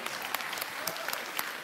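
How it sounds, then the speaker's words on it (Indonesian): An audience applauds a guest named Khadijah at a religious gathering, a short burst of sharp, scattered claps of moderate loudness with a crowd texture. "Tepuk tangan buat Khadijah."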